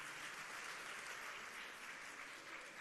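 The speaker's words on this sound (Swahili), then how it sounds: "tuwapigie makofi." An audience at a church service attended by the president and political leaders claps steadily and continuously, heard faintly at a distance as an even wash of applause.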